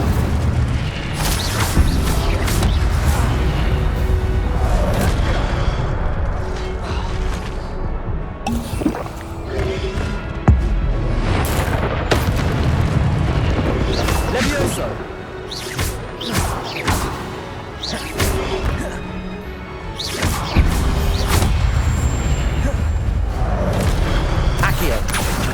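Spell effects from Hogwarts Legacy, including a cast of the Incendio fire spell, burst as repeated booms and crackling impacts over layered game noise, busy and loud throughout, with a voice calling out the spell.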